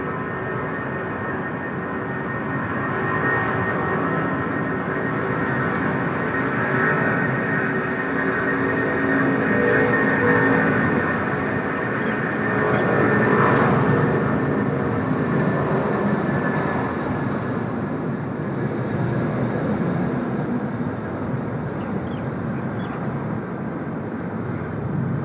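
Airliner on approach to runway 16 right at Seoul Incheon Airport, a long steady jet roar that swells and slowly fades while heard from a distance, with constant wind and background hum.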